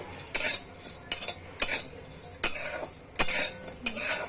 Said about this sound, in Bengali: হালকা রোস্ট করে নিচ্ছি হালকা শুকনো খোলায় ভেজে নিচ্ছি